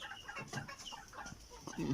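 A gamecock rooster gives low, short clucks in a quick irregular series, fairly close, with a slightly louder grunt near the end.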